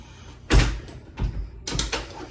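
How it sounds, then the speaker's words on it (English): Household doors in a Section 8 home are pushed shut, giving a sharp close thud followed by two more rumbling slides and bumps, near and loud with no voices. "let me close the doors so I can show y'all"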